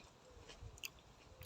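A small ripe garden apple is bitten and chewed close up, giving two short crisp crunches over soft, quiet chewing, with no talking.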